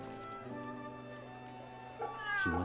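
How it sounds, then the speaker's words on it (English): A short cartoonish cat meow, clear and close, over steady electronic game music, with a brighter chirp near the end. "Ah, cat found!"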